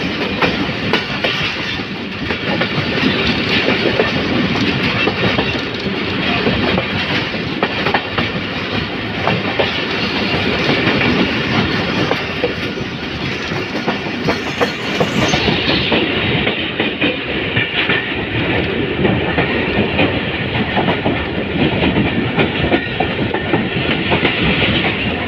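The Shah Latif Express, hauled by an HGMU-30R locomotive, rolls along the rails toward Karachi with a continuous loud rumble and steady clickety-clack of wheels, heard from on board.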